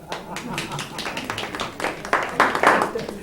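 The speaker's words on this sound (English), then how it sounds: "Give yourself a hand clap." An audience claps its hands in a crowd for about three seconds, the applause swelling louder toward the end over a murmur of voices.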